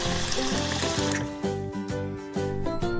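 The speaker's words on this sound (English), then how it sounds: "Wash your face." Water runs steadily from a tap while someone washes their face, a continuous splashing flow heard close up with soft music or tones layered underneath.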